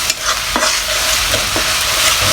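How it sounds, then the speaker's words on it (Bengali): Ginger and garlic paste fries loudly in a pan and is stirred, a continuous close sizzle broken by a few scraping strokes of the spatula, with no talking. "আদা রসুনগুলো একটু ভাজা ভাজা করে তারপরে"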